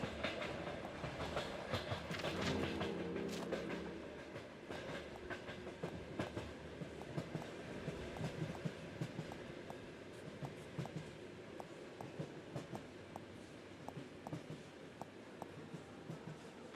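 A video-game train waits at a station platform, rolling with steady clickety-clack and rumble, brief hissing and clanks near the start, carrying on at a moderate, even level throughout.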